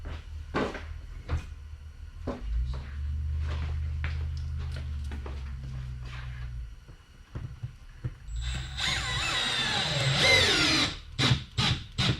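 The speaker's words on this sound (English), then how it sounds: "we'll run the lag into the joist here and see how it pulls through" A Milwaukee M12 drill driver runs a lag screw into a wooden joist: a low, sustained motor whir for several seconds, then a higher, rougher burst as the screw pulls through, surrounded by scattered knocks and clicks.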